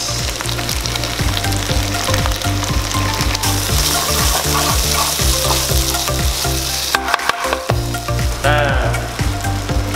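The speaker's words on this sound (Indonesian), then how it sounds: "Kita tumis." Indonesian-style express curry paste sautés in a hot pan, a loud crackling sizzle with repeated scraping stirs and clanks throughout, briefly dropping out near the middle.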